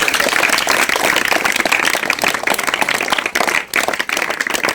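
A crowd at a Diwali gathering with children claps loudly and vigorously, a dense burst of many hands that keeps going with a brief dip before resuming.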